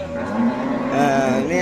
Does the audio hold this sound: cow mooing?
yes